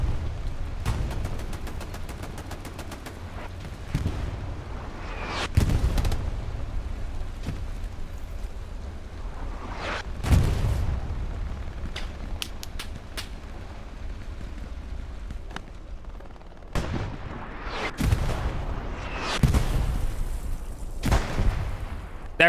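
Heavy tank cannon fire and explosions in the video game Hell Let Loose, several booming blasts spaced irregularly over a steady rumbling battlefield background.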